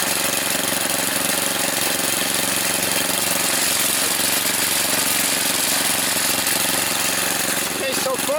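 A 22-year-old Craftsman 30-inch riding mower engine runs steadily and loud throughout while gears are shifted, with a rough, knocking idle rattle and a brief mechanical clunk near the end.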